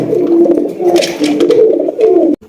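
A pair of blue satin pigeons coo in low, throaty repeated rolls, close and clear, the calls running almost continuously before a sudden stop.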